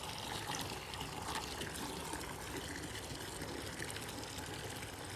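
Liquid termite treatment poured from a container onto sloping soil beside a house, a quiet, continuous trickling and splashing of liquid with no talking.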